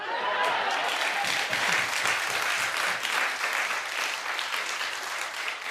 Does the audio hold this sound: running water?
no